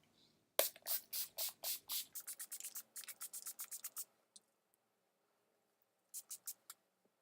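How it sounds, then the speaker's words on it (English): Quick, sharp hissing bursts from a bottle of NYX Matte Finish makeup setting spray, a rapid run of pumps, then a pause and a few more short sprays, close by. "I'm using the NYX Matte Finish long-lasting setting spray. Just gonna shake it up, spray far from your face"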